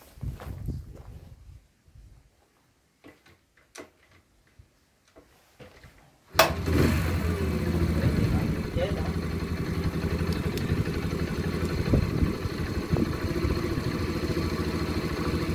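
A car on a road trip in Charente-Maritime sits quiet apart from a few clicks and a voice, then the engine catches abruptly and keeps running with a loud, steady, rumbling idle.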